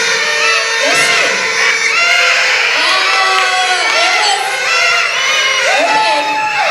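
Children in a church audience cheer, whoop and shout together at full volume, a dense sustained roar of young voices close by.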